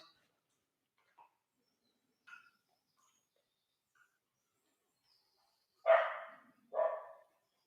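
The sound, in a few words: dog barking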